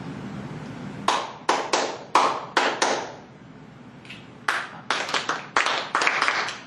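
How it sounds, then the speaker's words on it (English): Sharp hand claps are played in a rhythm lesson, heard as two distinct phrases of crisp, close claps in syncopated groups separated by a short pause, with faint background sound between them. "I'm going to play a rhythm right now, and I want you to sing it and clap it back to me."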